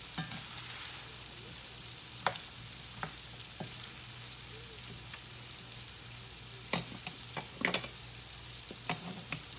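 Food sizzles steadily in oil in an iron skillet, a continuous broadband hiss with occasional sharper pops and crackles scattered through, fairly quiet and without voices.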